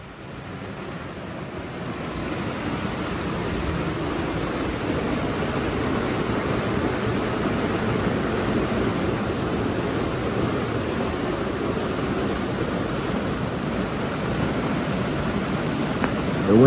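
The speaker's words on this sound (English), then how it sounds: "we've had light rain all night, but now it's starting to really come down" Heavy hurricane rain and wind lash a boat, a steady, dense roaring wash of noise that swells slightly over time, with no voices.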